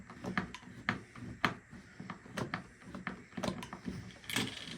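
Long bolts being tightened on a Motorguide Xi3 trolling motor mount, heard as a steady run of close, small mechanical clicks and ratcheting ticks with a dull metallic ring, repeating irregularly for several seconds without talking.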